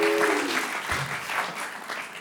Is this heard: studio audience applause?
yes